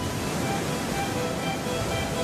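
Cold, rough sea surf washes continuously onto a long sandy beach at Santa Cruz, a steady broadband roar with no distinct breaks, moderately distant.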